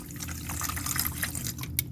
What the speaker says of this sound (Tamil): தண்ணி ஊற்றிக்கங்க